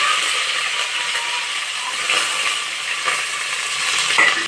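Chopped onions fry in hot oil with curry leaves for egg vada pulusu, a steady broadband sizzle under brisk scraping stirs of a spoon against the pan, loud and close throughout.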